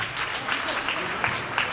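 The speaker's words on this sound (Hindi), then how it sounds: "तालियां" A crowd claps steadily and densely for a couple of seconds, the applause close and continuous with a murmur of voices beneath.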